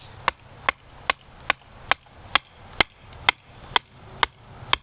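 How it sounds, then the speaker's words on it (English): Repeated sharp strikes of a baton on the spine of a Ka-Bar Kephart knife with a 4 3/4 inch blade, splitting wood outdoors; eleven evenly spaced, crisp knocks about every half second, close and clear. "let me try a little batoning with this"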